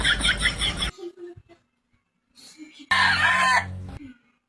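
A person imitates a rooster's crow with their voice, a loud strained call that breaks off and returns after a short pause, with brief talk and quiet sounds in the gap between the two bursts.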